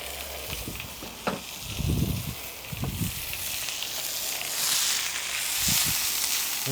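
Steak sizzling on a shovel blade held over an open fire outdoors, a soft steady frying hiss with crackles and a few louder pops and bursts, moderately close, no talking.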